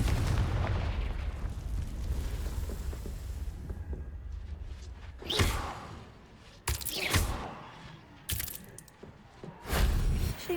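Confringo fire spell blasts from Hogwarts Legacy gameplay: a series of sharp, loud bursts and booming explosions at roughly 5, 7, 8.5 and 10 seconds, following a dense rumbling background of game ambience.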